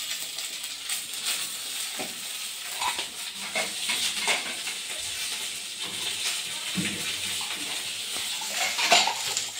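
Pieces of rohu fish belly fry in a pan with a steady broadband sizzle, joined by a few light clinks of utensils against cookware, close and fairly loud throughout.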